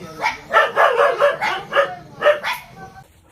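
Dog barking in a series of loud, close yips and bow-wows in quick succession, about eight sharp barks over a few seconds, with a faint whimpering tone in places and no talk.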